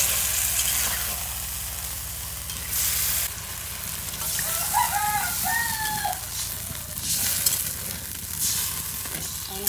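Rohu fish fries in a spiced masala of ginger, garlic and cumin paste, giving a steady loud sizzle with occasional stirring, while a rooster crows faintly in the background of a village kitchen.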